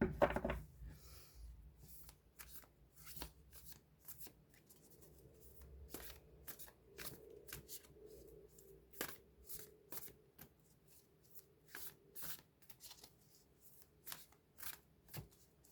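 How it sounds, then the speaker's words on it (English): A tarot card deck being cut and shuffled, with a series of soft, crisp riffling and tapping strokes repeating every half second or so, close and quiet. "I'm going to cut the deck."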